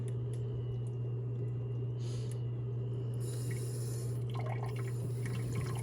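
Water poured gently over seed-start trays soaks into the potting mix, with soft trickling and scattered drips over a steady low hum.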